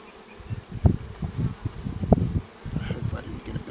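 Bees buzzing around a beehive while a new beekeeper fits a feeder, a close, fluctuating insect drone with irregular louder swells and a faint higher whine.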